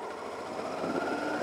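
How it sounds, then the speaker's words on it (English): Honda NT700V Deauville motorcycle engine running steadily nearby, a smooth continuous hum with a slight rise in level partway through, no talking. "It's got a nice sweet sounding engine."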